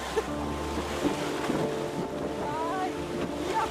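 North Sea waves wash and splash close by during a sea therapy outing, with gusting wind buffeting the microphone and faint voices in the background.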